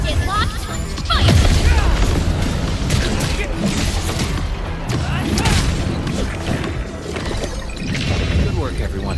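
Weapon fire and crashing impacts in the Arknights: Endfield video game, a loud continuous barrage of blasts and shattering hits with game voices talking over the din.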